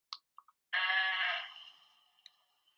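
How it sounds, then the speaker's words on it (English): A single goat bleat, clear and fairly close, with a few faint clicks before it and quiet afterward. "This is a goat."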